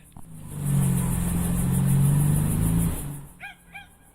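A BMW E36 with an M52 engine drives past on a test drive, its steady engine drone swelling and fading as it passes. A dog barks a few times afterward.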